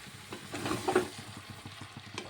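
Pumpkin and potato curry with ground ginger, cumin and pepper paste stirred in a pan, a soft scraping stir over a low steady sizzle, close and fairly quiet with no talk.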